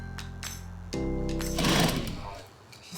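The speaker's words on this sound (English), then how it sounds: "sewing the panels together using robust and hard-wearing thread, perfect for heavy leather stitching" A sewing machine stitches leather panels with heavy, hard-wearing thread while old chairs are restored, a close mechanical hum with rapid repeating strokes that shifts and rises in pace over three seconds, with a voice talking over it.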